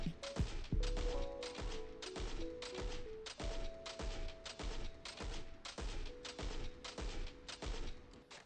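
The Midas Multi-Tool rifle in Destiny 2 fires in a rapid, even stream of punchy close shots. The shots run almost unbroken with brief gaps, some tonal ringing rides underneath, and no one speaks.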